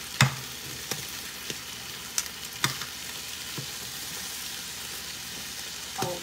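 Bratwurst sausages fry in a small, crowded pan with a steady close sizzle, punctuated by occasional sharp pops and spatters.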